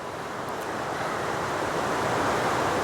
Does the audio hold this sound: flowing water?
yes